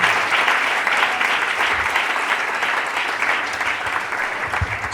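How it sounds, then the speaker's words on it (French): A church congregation applauds together, a dense, steady round of clapping from many hands that holds at a loud level throughout. "Acclame encore le Seigneur Jésus."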